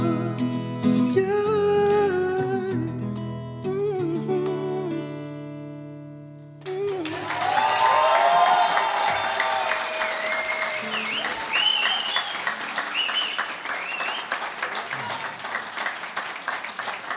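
Studio audience at a live music talk show bursting into loud, sustained applause and cheering right after a musical phrase ends, with scattered voices and a few sung notes on top as the clapping continues.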